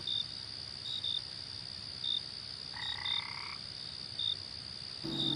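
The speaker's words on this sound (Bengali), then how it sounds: "হঠাৎ হঠাৎ করে ব্যাঙ ডাকছে" Frogs croak intermittently in short bursts over a steady high cricket chirr, a quiet night ambience from a Bengali cartoon with no voices.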